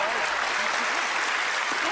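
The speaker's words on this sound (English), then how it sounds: "Give Allison a big round of applause" A studio audience at a magic show applauds, a dense continuous wash of clapping throughout with a voice faintly audible underneath.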